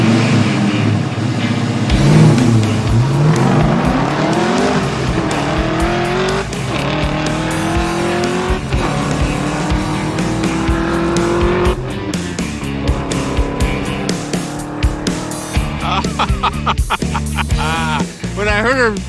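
A hot rod drag racing car makes a full pass down the strip, its loud engine climbing through repeated rising revs and gear changes. The car is near and roars continuously, with brief tire or mechanical bursts toward the end.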